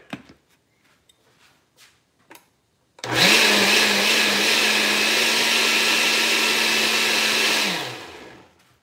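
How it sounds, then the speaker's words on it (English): A kitchen blender whirs loudly through bacon and corn, starting abruptly after a few faint handling knocks, running steadily for about five seconds, then winding down and stopping. "All the bacon, all the corn, everything. Okay, all in the blender. Now we blend."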